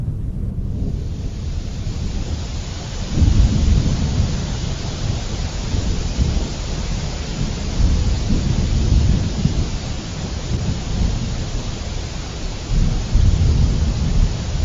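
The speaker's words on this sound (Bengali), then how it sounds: "বাইরে প্রচুর বৃষ্টি হচ্ছে" A heavy cartoon thunderstorm with strong wind and pouring rain, a dense constant roar of rain with deep rumbling thunder swelling several times, loud and without voices.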